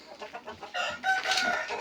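A few quick clucks lead into a loud rooster crow nearby, a brief burst of farmyard fowl calls.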